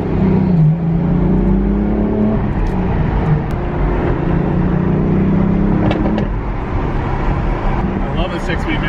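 A car with a 6-speed manual gearbox pulling hard, a loud, close engine drone that rises and falls through the gears in an echoing tunnel.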